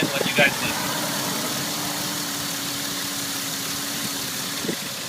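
A 2000 Ford Explorer two-door Sport 4x4 with about 152,710 miles idles steadily at close range, a low even engine hum with a faint tonal line, with a few brief knocks near the start and end.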